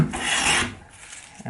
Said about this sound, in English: It seems to be planing quite nice to start with.